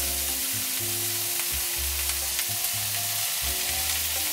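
Food sizzling in a pan while sauteed with sesame oil and soy sauce at a campsite, a steady close crackle and hiss with stirring scrapes and a low repeating hum beneath, no voices.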